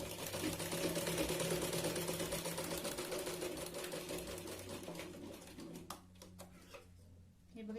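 A sewing machine stitches tucks into a katori blouse, running in a fast, rhythmic patter for about six seconds before stopping, with a voice faintly audible alongside.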